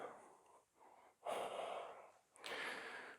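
Breathing during a power vinyasa yoga flow, close and alone: a soft exhale, a pause, then longer, stronger breaths in a slow repeating rhythm.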